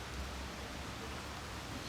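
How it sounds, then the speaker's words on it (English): Steady rain falls around an outdoor tie-dye setup, a dense, even hiss that holds at the same level throughout with no voices over it. "how did this rain start suddenly"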